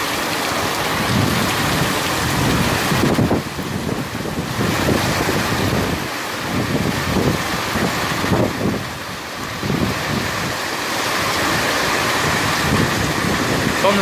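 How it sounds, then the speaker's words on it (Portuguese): Heavy rain pours beside a chapel in a Brazilian neighbourhood, a dense steady roar with gusty wind buffeting the phone microphone and rumbling low swells, loud and continuous. "Mas dá pra ver que a chuva tá bonita, graças a Deus."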